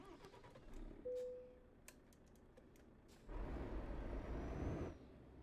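Truck engine in Euro Truck Simulator 2 on Iberian Peninsula roads: a steady low rumble that swells louder for a couple of seconds midway, with light keyboard-like clicks and a brief tone over it.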